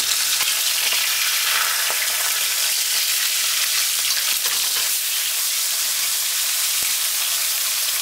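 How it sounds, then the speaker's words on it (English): Fish fries in hot oil, sizzling and crackling steadily throughout, a dense bright hiss with occasional pops, close by and uninterrupted. "Now after 3 minutes, you want to fry it up"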